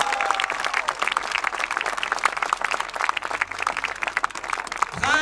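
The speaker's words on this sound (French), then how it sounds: "Mesdames et messieurs, applaudissez Princesse Laure" An audience at the Romont carnival bursts into sustained, lively applause for the carnival princess, dense clapping that runs steadily throughout and fades at the very end.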